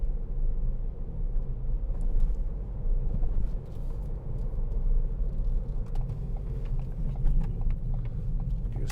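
Steady low engine and road rumble inside a 2016 Ford B-Max with a 1.0-litre EcoBoost petrol engine cruising along a dual carriageway, a continuous droning hum with occasional faint rattles and no talking.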